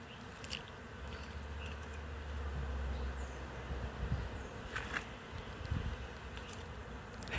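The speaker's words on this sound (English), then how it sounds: "Look at all those bees in there." Bees buzz steadily, fairly close, as they are moved from old hives into newer Langstroth boxes, with a constant low drone and a few sharper passes near the microphone.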